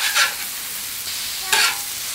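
Burger patties sizzle steadily on a hot cooking surface, with two brief louder hissing surges as they are pressed down, close and alone.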